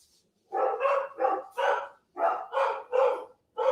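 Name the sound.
dogs barking at a delivery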